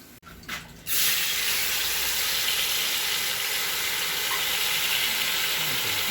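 Curry frying in a pot, sizzling loudly and steadily after a quieter start, with a dense, constant crackle close up.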